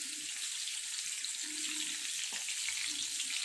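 Breaded prawns sizzle steadily in hot oil, a continuous close hiss with a brief clink partway through as pieces are turned over; no one speaks.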